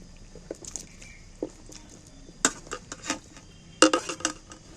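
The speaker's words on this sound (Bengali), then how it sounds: "এঁচড়গুলো কেটে ধুয়ে তুলে রেখেছি এঁচড়গুলো আমি এর মধ্যে তুলে দিচ্ছি" Cut jackfruit pieces drop into a bowl of lemon water, giving scattered light clinks and knocks against the bowl with soft splashes, a few sharper clusters near the end, close up and without talk.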